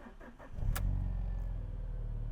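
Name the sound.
Alfa Romeo 4-cylinder 16-valve twin-spark engine starting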